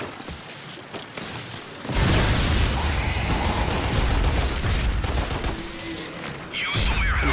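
Gunfire shooting at enemies in the Xbox 360 game Lost Planet: after a quieter start, a sustained loud barrage of rapid shots and mechanical clatter continues for several seconds, easing briefly before a final burst.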